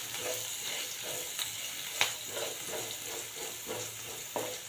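Garlic and green chillies sautéing in a pan for cabbage masala, a steady close sizzle with repeated soft scraping stirs and occasional spatula knocks, no talking.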